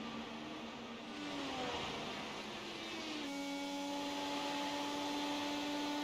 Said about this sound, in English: As all those cars now exiting the pits.